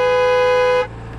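An L300 van horn in a video game gives one loud, steady toot lasting under a second, then cuts off to quiet engine hum.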